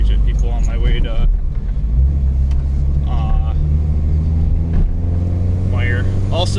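A 2010 Mini Cooper S R56 with an Invidia Q300 exhaust and manual-mode shifting drives along at a steady engine rumble that deepens into a lower drone partway through, with a person talking over it throughout.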